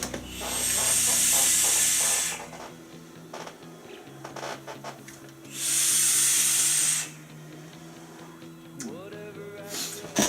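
Two long draws on a vape fitted with macro coils and an Alliance 28.5mm atomizer at its smallest airflow setting, each a steady loud hiss lasting about two seconds, separated by quieter handling noise.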